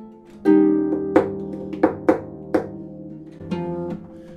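Plucked harp notes ring out with soft, muted thumps from a thumb tapping the soundboard, several separate strikes spaced unevenly, close and clear with no talking.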